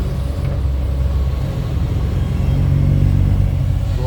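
A six-wheel dump truck strains under load on a dirt site with a tractor helping, giving a loud, continuous low engine rumble that builds slightly and carries no talk.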